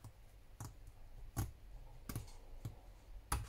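Scissors snip off a piece of paper during a papercraft junk-journal project, heard as a handful of soft, short, dry clicks spread irregularly over a few seconds in a very quiet room.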